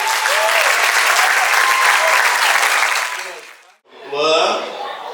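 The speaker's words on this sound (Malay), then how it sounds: "Bagi tepukan" Loud crowd applause at a school farewell ceremony, steady for several seconds, then fading out before a voice speaks.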